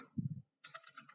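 A short run of computer keyboard typing, a quick cluster of soft key taps, a brief pause, then lighter clicks, quiet and close.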